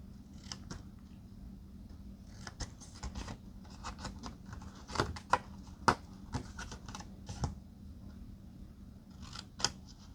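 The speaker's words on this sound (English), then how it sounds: "I'm going to cut all the way up to the line, and then on the side, just snip off a little piece" Scissors snip paper pieces for a small paper book, a quiet sequence of short, irregular cuts and clicks close by with soft handling noise between them and no speech.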